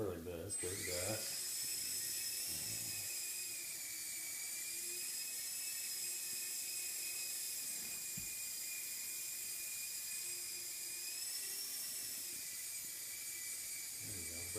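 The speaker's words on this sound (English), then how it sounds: "Wyatt's gonna start driving the helicopter" Small electric motor and rotor of a child's toy helicopter in flight: a high, steady whine with a buzzy edge that holds throughout, wavering slightly in pitch, with faint low bumps and background noise beneath.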